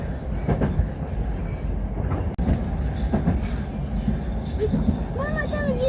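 A metro train runs past, its steady low rumble filling the scene continuously, with people talking over it throughout.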